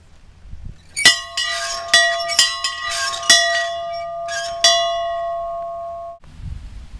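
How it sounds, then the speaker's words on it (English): The freedom bell at Booker T. Washington National Monument rings loudly nearby, struck roughly ten times in an irregular series of clangs whose shared ringing tone hangs on before being cut off abruptly. "let's listen to the bell that rang in freedom for these African Americans"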